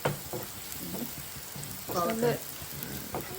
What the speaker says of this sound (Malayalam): ഇനി നമ്മളിതിൽ കറിവേപ്പില ഇടാണ് നന്നായി ഉള്ളി നന്നായി ഫ്രൈ ആയി ഒരു സൗണ്ട് ഇങ്ങനെ വരുമ്പോഴാണ്